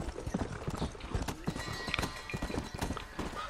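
Horse hooves clop in a quick, even galloping rhythm in the Red Dead Redemption game, steady and moderately close with no voices over them.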